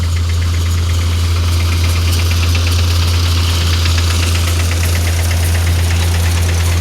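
A Shri Balaji thresher working through peas, driven by a Swaraj 744 FE tractor, drones loudly and steadily with a deep engine hum and a dense rattling, knocking clatter throughout.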